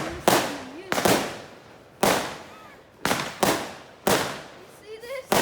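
Fireworks and firecrackers go off in a quick run of about seven sharp, loud, close bangs, each echoing away, with faint whistling trails between some blasts.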